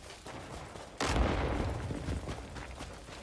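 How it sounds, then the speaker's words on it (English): A single loud cannon or gun blast in the game Crimson Desert, a sharp report that booms and then rumbles and fades over steady game ambience. "Someone just fired at me."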